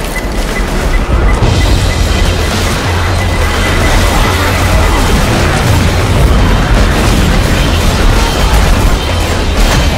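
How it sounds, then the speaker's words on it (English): Pipe bomb blast in the zombie shooter Left 4 Dead 2, heard as a loud, sustained roar of booming, crackling noise filling the whole stretch without pause. "Pipe bomb out."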